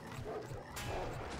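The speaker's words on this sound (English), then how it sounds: "I think there's a dog attacking me somewhere too." Short bark-like yelps from an attacking dog in the FATE game, two quick bursts over a dense game background.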